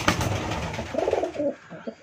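Female homer pigeon, a close bird cooing in soft throaty bursts after a louder rustling start, ending in a few short coos.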